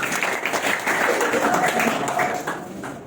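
A classroom audience claps for a student speaker, a short burst of mixed hand claps of moderate loudness that thins out toward the end, with some voices mixed in.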